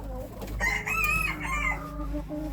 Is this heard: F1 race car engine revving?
no